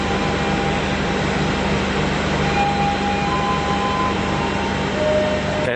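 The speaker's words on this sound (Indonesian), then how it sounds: "kereta api yang akan saya naiki sudah merapat di jalur 1 stasiun Surabaya Pasar Turi" The Sancaka Utara train pulls into platform 1 at Surabaya Pasar Turi station, giving a steady, close rumble with faint whining tones and no voices.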